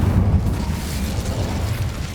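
Casting Incendio in Hogwarts Legacy produces a dense, low flaming roar. It sustains loudly for about two seconds with a slightly pulsing, rumbling texture.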